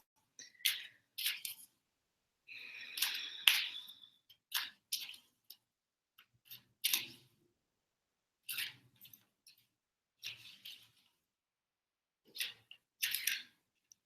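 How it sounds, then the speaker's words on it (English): Deck of oracle cards being shuffled by hand: short bursts of soft papery riffling and flicking, irregularly spaced with quiet gaps between, close and fairly faint, no talking. "with the Raphael, we're going to just kind of feel into it as we shuffle"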